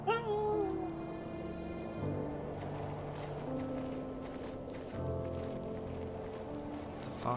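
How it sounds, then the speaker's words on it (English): Rain falling in the video game The First Tree, a soft steady patter under sustained musical tones and a faint low hum, fairly quiet throughout. "Oh no, it's raining!"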